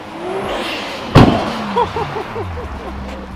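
Caterham 7 Super Sprint arriving with a sharp, loud engine burst and revving that quickly eases off, close by and alone.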